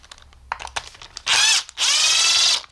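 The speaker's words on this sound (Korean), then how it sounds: "드라이버로 그냥 뭐 손 드라이버나 이런 전동 드라이버로 풀러주시면 되고요" An electric screwdriver loosens screws on the base of a three-year-old hot water mat, starting with a few short clicks and taps, then two loud sustained whirring bursts close by.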